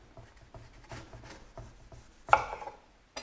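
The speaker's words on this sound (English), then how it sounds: "cut off the stem end of the lemon to make a flat base" A knife trims the stem end off a lemon on a cutting board, making a series of soft scraping cuts followed by one sharper, louder chop near the end.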